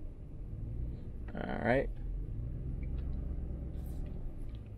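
A pickup truck backing up a trailer gives a low, steady engine rumble close by, with someone speaking briefly over it.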